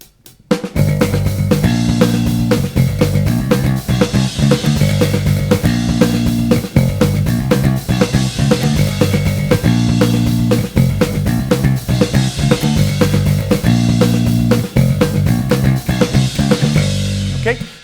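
Original isolated bass track, a fast, relentless thrash riff of rapid repeated notes, loud and steady throughout with brief breaks between phrases.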